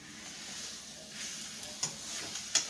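A pork roast sears and browns in a hot pan, giving a steady, fairly quiet sizzling hiss with a few brief clicks and pops near the end.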